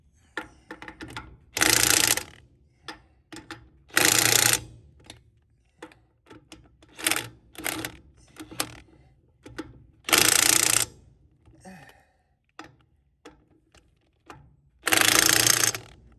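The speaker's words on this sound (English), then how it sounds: "One last go around with a impact wrench." An impact wrench tightens the lug nuts on a trailer tire in several short bursts of rattling hammering, separated by quieter clicks and handling noises, fairly close.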